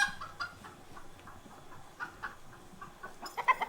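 Hens in a coop cluck softly and intermittently in the morning, with a few louder, sharper clucks toward the end against a quiet background.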